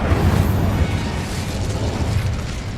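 Incendio fire spell cast in Hogwarts Legacy, a loud, sustained roaring whoosh of flame with a deep rumbling boom that carries through the whole moment.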